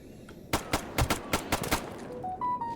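Bursts of gunfire from enemies fighting each other in STALKER GAMMA, roughly eight sharp shots in an irregular volley, fairly close and loud, followed by a few rising electronic tones.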